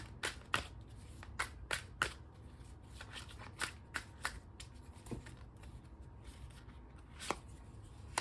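Tarot cards are shuffled close up during a reading, a series of sharp riffling bursts and soft slaps spaced irregularly over a quiet background, with no talk.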